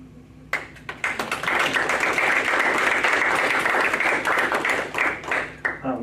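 An audience at an evening kindness and poetry reading breaks into warm applause after a poem, dense clapping swelling quickly and holding for several seconds before tapering off.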